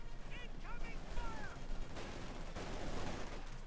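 Dense machine gun fire in Company of Heroes 2 crackles continuously at moderate volume, with a voice heard briefly underneath.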